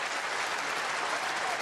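A snooker crowd at the Welsh Open semi-final applauds in a dense, steady wash of clapping that fills the hall, loud and continuous throughout.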